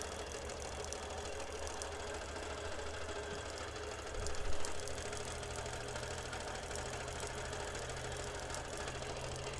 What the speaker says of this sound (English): as long as it quilts the line, I'm happy.